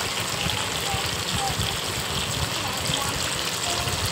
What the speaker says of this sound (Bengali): দাঁড়াগুলো লাল লাল করে ভেজে নিচ্ছি, কড়াইতে ভাজা হচ্ছে